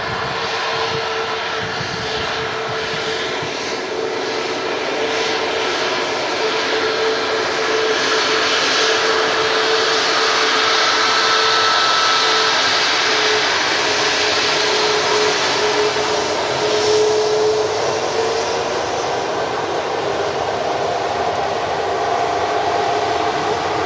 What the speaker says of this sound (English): Coming in now, and it's trailing quite nicely, is another 321 Neo from Jet2, again from Palma.